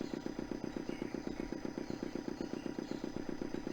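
A motor sputtering to life in the Broken Sword II point-and-click game, running as a steady rapid chugging rhythm of low thumping pulses that repeats evenly throughout, close and moderately loud with no talk.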